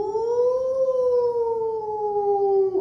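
A voice imitates a long, drawn-out siren, one sustained rising-then-falling wail held close and loud for about three seconds, like the break siren at school.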